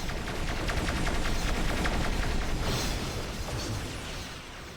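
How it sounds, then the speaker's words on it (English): Torpedoes firing in the space game Avorion: a dense, continuous barrage of rapid mechanical bursts and pops with whooshing launches, loud and steady throughout and easing slightly toward the end, with no talking. "And I'd love to fire some torpedoes."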